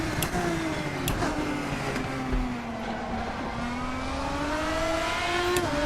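LMP1 prototype race car in RaceRoom Racing Experience at Daytona Road, engine pulling steadily through a long acceleration with a rising whine, loud and continuous, with a couple of brief sharp clicks.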